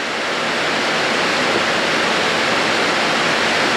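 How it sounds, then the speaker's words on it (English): Heavy rain pours down outside a workshop as a dense, steady hiss that fills the whole stretch without any pause or change in loudness. "And it's pouring down rain."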